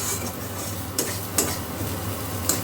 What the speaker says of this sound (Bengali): এটা আবার নাড়ছি।